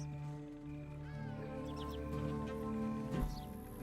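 Birds calling within a video game, a few squawking, quacking cries heard at moderate distance over a constant low ambient hum, with a brief sharper burst near the end.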